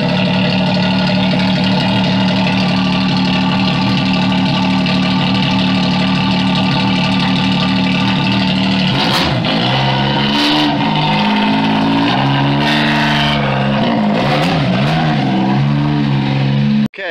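A drag car with wheelie bars fires up cold and settles into a loud, lumpy idle with strong low harmonics, then is revved in several sharp blips that rise and fall before cutting off abruptly.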